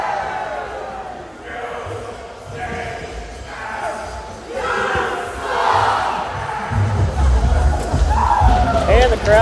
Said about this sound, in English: And the crowd getting into it.